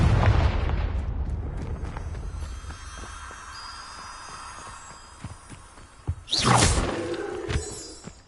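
Confringo blasting spell in a Harry Potter video game, a deep booming blast at the start that rumbles away, followed later by a sharp bright burst and crackling impact, with no talk.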